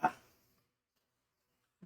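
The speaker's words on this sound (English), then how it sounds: "Dog comes walking in." A dog gives a single short bark or yip indoors, followed by silence and a faint small sound near the end.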